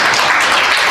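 A church congregation claps for a birthday, a dense, even patter of many hands filling a single second.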